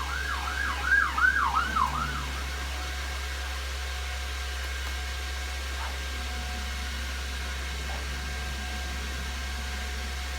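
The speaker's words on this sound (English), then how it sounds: "Another siren." An emergency vehicle siren wails outside, a few quick rising-and-falling yelps heard at a distance over a steady low hum, then fading away into quiet background noise.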